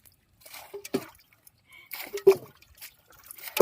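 Water bailed by hand out of a small boat on a wetland, heard as a few close splashes, drips and sloshes with quiet pauses between, no speech over them.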